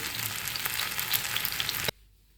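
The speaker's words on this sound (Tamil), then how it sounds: "நான் ரெண்டு தடவையாக்கம் பொறிச்சு எடுக்கிறேன்" Chicken 65 pieces deep-fry in hot oil with a loud, dense, close crackling sizzle that cuts off abruptly near the end.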